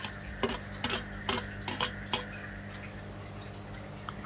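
Chopped tomatoes tumble into a pan of frying spices for dahi bhindi, giving several close, soft splatting drops in quick succession followed by a quieter low sizzle.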